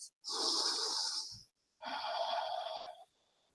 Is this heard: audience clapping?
no